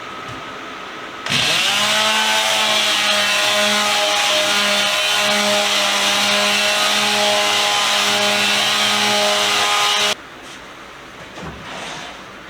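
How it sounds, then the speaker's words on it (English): A power sander fitted with 240-grit paper works on a mid-century modern wooden bedroom set, starting up abruptly into a loud, steady whine with a strong hum that holds for about nine seconds before switching off. "It's another grit, another sander."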